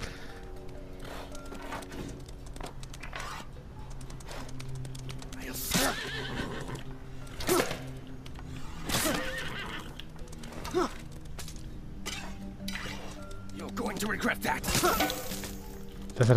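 Horses neigh repeatedly amid soldiers in the action game Apotheon, with whinnies, hoof clatter and sharp cracks and shatters over steady ambience, while someone talks throughout.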